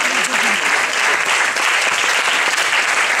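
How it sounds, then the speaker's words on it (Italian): An audience at a salsa school student show breaks into loud, close applause, a continuous dense clatter of many hands, with a voice briefly heard at the start. "un applauso per lei"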